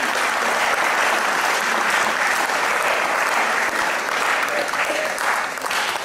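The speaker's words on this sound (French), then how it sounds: "On applaudit Véronique quand même, merci." Sustained audience applause at a public event marking the World Day for the Eradication of Poverty in Villeneuve-sur-Lot, a dense, steady wash of many hands clapping that holds level for the whole stretch and eases slightly near the end.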